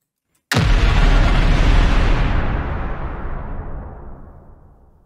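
Massive synthesized explosion effect built in the Phase Plant synth: a sudden loud full-range boom after a short silence, rumbling heavily with deep low end and then slowly decaying and darkening over several seconds, with no voices.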